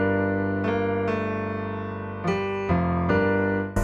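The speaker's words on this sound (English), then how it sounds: "when we add the SSL" Synth piano preset processed through an SSL EV2 channel plugin, a short sequence of chord changes with sharp attacks and sustained tones, full and upfront, no talking.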